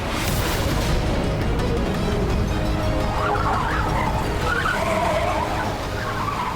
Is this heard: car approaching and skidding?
yes